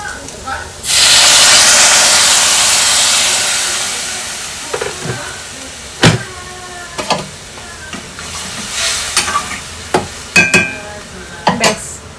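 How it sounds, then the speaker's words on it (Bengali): Water hits hot oil in a pan of frying potatoes with a loud, sudden hiss that slowly fades, followed by scattered scraping and stirring clicks. "এরপর আমি এখানে একটুখানি জল দেব যতটা কিনা আলুটা সিদ্ধ করতে লাগবে"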